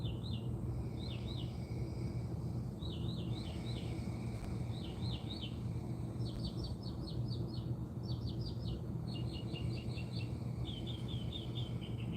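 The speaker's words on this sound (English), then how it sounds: "to hear the birds sing." Several birds chirp and trill in short repeated bursts over a steady low outdoor hum, fairly distant and continuous throughout.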